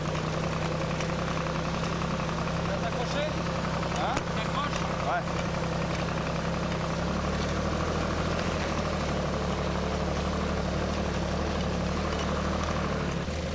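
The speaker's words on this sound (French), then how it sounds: "Tracteur de vigneron." A vineyard tractor engine runs with a low, steady rumble and idle knock while people chat briefly nearby.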